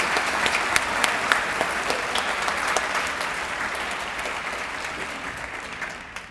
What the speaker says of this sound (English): One more round of applause for our junior academic achievers this year